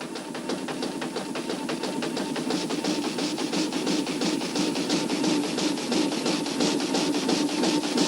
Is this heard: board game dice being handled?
no